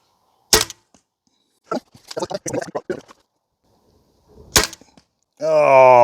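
A Ballista Megabat reverse crossbow fires two sharp, close shots at an outdoor target, a few seconds apart. Brief talk falls between them, and a voice sounds at the end.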